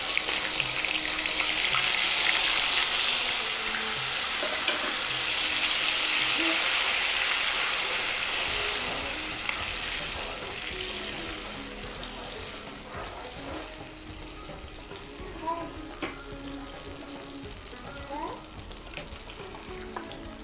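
Chicken keema fries in oil with ginger paste and tomato sauce, giving a loud, steady sizzle that continues throughout, with faint stirring clinks and a low hum underneath.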